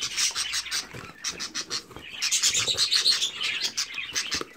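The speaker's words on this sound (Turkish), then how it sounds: "Şimdi rahat rahat kuşlarımızı alabiliriz." Crested female budgerigars chirp and tweet in rapid, overlapping bursts close by, forming a busy, continuous chatter with no voices.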